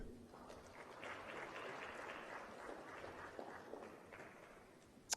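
Sustained audience applause fills a conference hall as a panelist is welcomed, steady dense clapping lasting several seconds and fading slightly at the end, with a sharp louder clap near the close.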